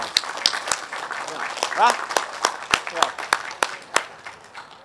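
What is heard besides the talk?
crowd applauding at a flag raising ceremony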